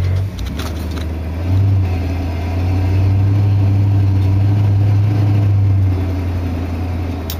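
A 1973 Lincoln Mark IV's engine runs while warming up, a loud, steady low idle rumble that swells and eases slightly as the revs shift, with a brief metallic jingle near the start.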